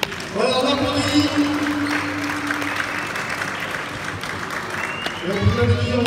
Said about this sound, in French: Voilà, on applaudit.